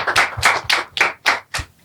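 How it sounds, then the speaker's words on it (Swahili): Six sharp, evenly spaced hand claps ring out close and loud for Citizen Kona at a lively gathering, a quick steady rhythm with brief gaps between each clap. "Pia tumpigie makofi Citizen Kona, boss wa Citizen"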